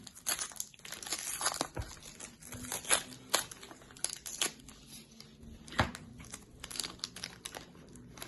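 Packaging from a toy box crinkles and tears as it is opened, close-up crackling and rustling in irregular bursts with a few sharper crunches, no talking over it.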